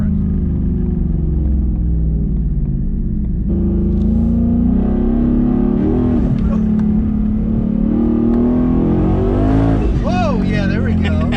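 Inside a 2019 Ford Mustang with a twin-turbo Coyote V8 and 10R80 transmission, the engine roars loudly under hard acceleration, its pitch sweeping up and dropping sharply at manual gear shifts. Voices talk over the engine.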